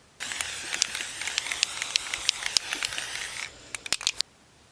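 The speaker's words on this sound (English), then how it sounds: "use our spray paint to paint our terracotta pot" A spray paint can hisses in a long continuous spray onto a terracotta pot outdoors, followed by a few short sharp bursts, close by with no talking.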